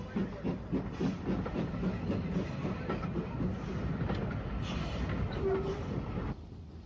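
Isle of Wight railway 0-4-4 tank locomotive No. 35 departing with its train, a steady rumbling run with rhythmic chuffing and wheel clatter, fairly close, continuous and alone until an abrupt drop near the end.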